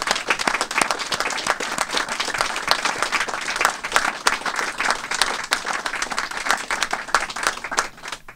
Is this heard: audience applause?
yes